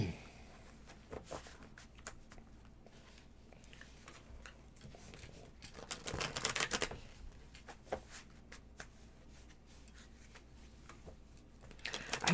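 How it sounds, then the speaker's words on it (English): A deck of tarot cards being shuffled close by, with soft irregular riffles and flicks and one louder burst of rapid shuffling in the middle, all fairly quiet. "Yes, I shuffled."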